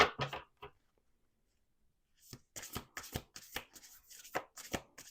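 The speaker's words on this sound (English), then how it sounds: "we're going to do 2 more shuffles." A deck of tarot-style reading cards riffles in quick crisp bursts, a short shuffle, a pause of near silence, then a longer series of rapid flutters close by.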